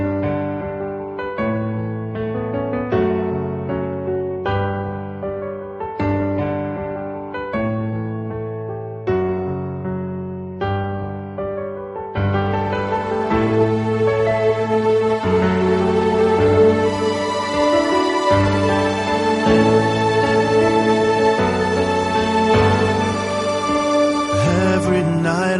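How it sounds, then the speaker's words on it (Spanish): A song plays on a radio program, beginning with sparse, rhythmic plucked or keyed chords and then swelling midway into a fuller, brighter arrangement, loud and steady with no talking over it. "vamos a escuchar una canción que hemos seleccionado detenidamente para ustedes"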